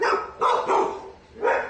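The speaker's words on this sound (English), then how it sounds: "You're not making a sound while everybody else is barking." Several dogs bark at an SPCA animal shelter, four close bursts of barking with short pauses between them.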